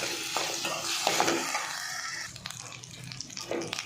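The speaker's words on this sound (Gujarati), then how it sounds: "જેમાં આપણે પલાળીને રાખેલા બાસમતી ચોખા એડ કરીશું। જેને આપણે 2 મિનિટ માટે ધીમી આંચ પર શેકીશું।" Soaked basmati rice roasts in a pan over a low flame after softened onions, giving a steady soft sizzle broken by scraping stir strokes, with no voices.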